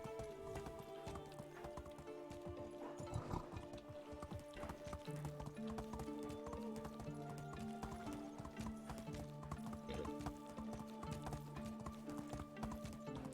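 Hooves clip-clop steadily as a horse gallops through a winter setting in the medieval game Medieval Dynasty, a quick, even rhythm of hoofbeats under a constant music bed.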